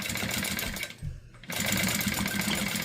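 A sewing machine stitching vinyl with a fast, even mechanical chatter, close and loud, pausing briefly near the middle before running steadily again.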